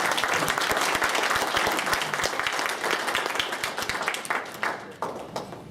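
An audience gives a round of applause to welcome an assemblymember to a presentation, loud, dense clapping that thins out toward the end.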